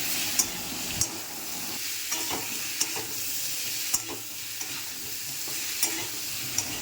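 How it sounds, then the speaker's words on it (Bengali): Ginger, cumin and chilli paste fry in a pan with a soft, constant sizzle, while a spoon scrapes and taps the pan in a regular rhythm about once a second. "একটু আদা বাটা, জিরে বাটা, লঙ্কা বাটা দিয়ে নাড়াচাড়া করব ভালো করে"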